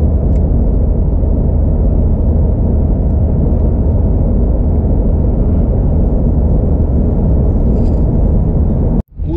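Steady, loud engine and road rumble from inside a car driving toward Yellowstone through mountainous Wyoming, holding constant throughout before a sudden cut at the end, with no talk.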